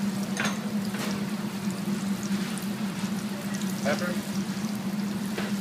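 Shallots fry in olive oil in a pan with a steady, close sizzle and faint crackles, while a person talks briefly over the cooking.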